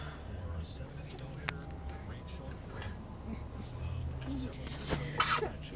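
A single short sneeze near the end, fairly close, over a low background rumble at a gas station, with some quiet talking in the background.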